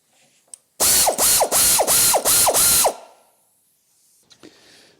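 A ratchet wrench undoes bolts on an old rusty car frame, sounding as a loud, close run of six rapid clicking bursts in steady rhythm, followed by faint handling noises.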